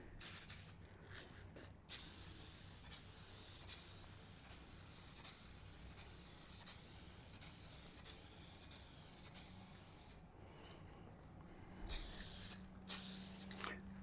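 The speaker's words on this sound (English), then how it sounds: "make sure the can is well shaken, and we'll apply the first coat on" Spray paint hisses from an aerosol can onto vinyl in long, steady bursts at close range, with a few short pauses and brief resumed sprays near the end. There is no talking.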